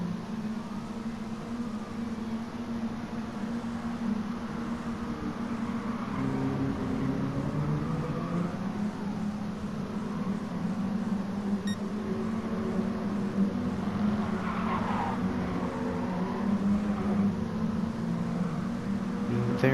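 Mini Cooper race cars in the Chewitt Racing Mini Cooper Cup lapping Brands Hatch Indy, a steady engine drone of several cars holding throughout at moderate level, with no talk over it.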